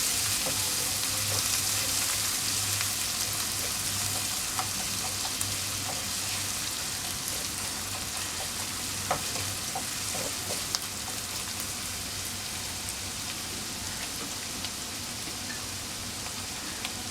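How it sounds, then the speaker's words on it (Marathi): Onion sautéing in hot oil seasoned with asafoetida for a Marathi brinjal-potato bhaji, a steady close sizzle and crackle running unbroken throughout with faint stirring, no voices. "याच्यात आता कांदा घातला थोडंसं आपण परतून घ्यायचं"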